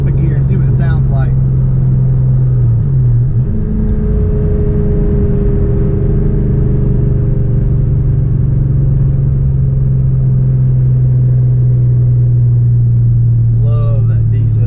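A loud Mustang Cobra engine with Flowmaster exhausts drones steadily with a deep rumbling pitch that dips briefly after a downshift and then rises and holds, with a voice talking faintly at the start and end.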